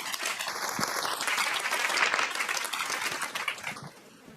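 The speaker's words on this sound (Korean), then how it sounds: "박수로 맞아주세요" Audience applause welcoming a young carpenter to the stage at a youth forum, a dense crowd clapping that holds steady, then thins and tapers off in the final second.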